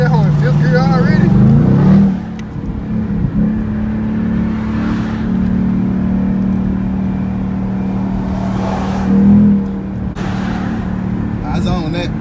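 A car engine drones loudly and steadily from inside the cabin while accelerating in fifth gear, the tone holding with small surges, as people talk over it.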